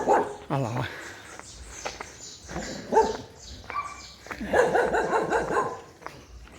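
A nearby dog growls and barks in short irregular bursts at close range, with some whimpering yips between them.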